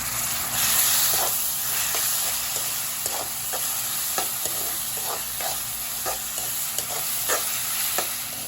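Curry leaves and chopped tomatoes fry in a pan, giving a steady close sizzle and hiss broken by regular light scrapes and taps of stirring.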